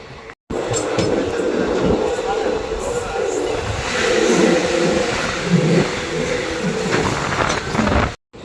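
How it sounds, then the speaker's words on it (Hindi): Special train 04452 from Howrah to New Delhi running towards Ghaziabad Junction, a loud steady rumble of rolling wheels and carriage noise heard from on board, continuous from start to end apart from brief cuts at the edges. "अपनी स्पेशल ट्रेन 11 मिनट की देरी के साथ अपने पहले हॉल्ट गाजियाबाद जंक्शन पहुंच रही है।"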